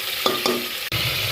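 Country chicken pieces sizzle in a hot pan as a spatula scrapes and stirs them, two quick scraping strokes over a steady close frying hiss.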